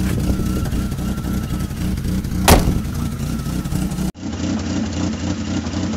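A 1996 Chevrolet Camaro idles with its exhaust knocking against an underbody crossmember, giving a steady loud rumble with a rattling edge and one sharp clunk partway through.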